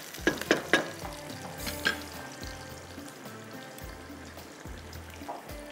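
Onions fry to a brown colour in a pan while pulao cooks alongside, a steady close sizzle with a few sharp clinks of a utensil near the start.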